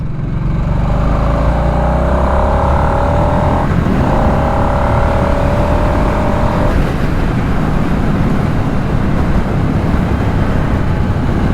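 A 2024 Harley-Davidson Nightster Special 975 motorcycle engine pulls hard under acceleration, a loud steady roar with rising tone that changes pitch midway, mixed with heavy wind rush while riding.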